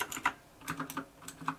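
Kailh Blue mechanical keyboard switches on a Ravcore Edge keyboard click sharply in an irregular typing rhythm, about a dozen crisp keystrokes close up and fairly quiet with no voices.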